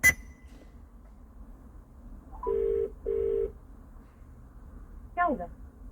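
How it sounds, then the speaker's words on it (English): Dialing tones from a mobile phone call to customer support play through the Bluetooth sound system of a Maserati GranTurismo, two steady tones close together over a quiet cabin hum, then a brief chirp. "I'll just call customer support quickly for my mobile phone, see what it sounds like over the sound system"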